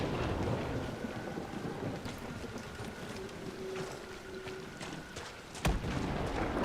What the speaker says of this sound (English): Ooh, that thunder.